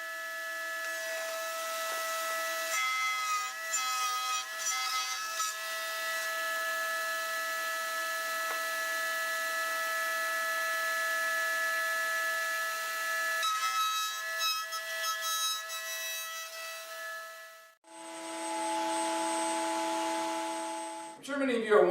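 Power tool cutting a groove in wood for shed doors, a continuous loud whine with small shifts as the board is fed through, a brief drop, then the cut running again.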